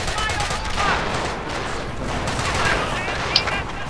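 Explosions and gunfire in a strategy video game battle, a field support truck getting blown up; a continuous, dense roar of rapid shots and blasts, loud throughout, with a small sharp crack near the end.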